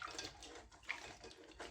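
Carob pods being washed by hand in a bowl of water, with faint, soft sloshing and splashing that continues steadily through the short stretch at low volume.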